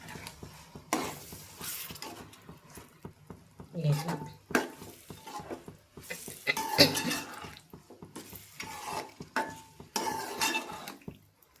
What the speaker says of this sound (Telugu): బఠానీలు వేసుకొని కూడా మంచిగా కలుపుకుంటాం